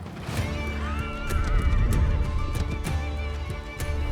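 A horse neighs loudly and close, a shrill whinny that rises and falls over several seconds amid hoof clatter and rustling movement, with no speech.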